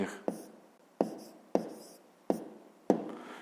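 A pen writing the answer to a fifth-grade math exercise on paper, five distinct scratchy stroke bursts at a close, uneven rhythm, each fading quickly into quiet.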